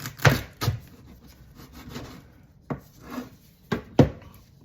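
A knife slices jalapeños lengthwise on a cutting board, a handful of sharp, close knocks against the board spaced irregularly, with soft scraping in between and no talking.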